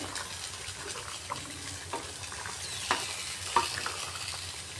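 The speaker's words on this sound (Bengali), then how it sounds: "ঢাকাটা উঠিয়ে মধ্যখানে একবার আমি ভালো করে নাড়িয়ে দিচ্ছি" Jackfruit curry with potatoes bubbling in a pan as a spoon stirs it, a wet sizzling hiss with occasional scrapes and clinks against the metal.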